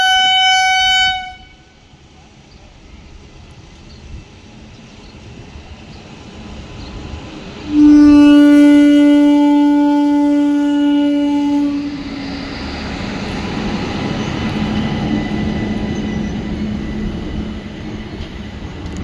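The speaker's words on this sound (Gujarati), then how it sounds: "ફાઇનલી મિત્રો ટ્રેન આવી ગઈ છે, તમે જોઈ શકો છો" Train passing a village level crossing, with a short horn blast at the start and then a long, loud, close horn, followed by a rolling rumble of wagons that builds and continues to the end.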